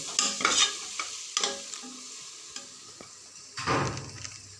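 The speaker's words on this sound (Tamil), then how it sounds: "போட்டு விட்டு நல்லா கிண்டி விடுங்க." Mint leaves are stirred in a cooking pot while making biryani: a few uneven bursts of scraping and sizzle, with quieter gaps and a longer rustling stir near the end, close by.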